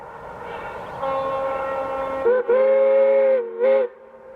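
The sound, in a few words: steam locomotive whistle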